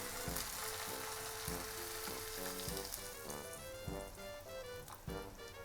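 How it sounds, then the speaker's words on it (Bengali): Chickpeas fry in a pan as a little water is poured in, producing a steady, close sizzle that continues throughout, with tonal music playing underneath. "এবার ওর মধ্যে আমি একটুখানি জল দিয়ে দেব"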